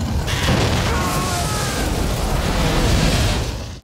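A dragon from Game of Thrones breathes fire in a loud, sustained roaring blast that rushes on for several seconds with a deep booming rumble and a sharp onset.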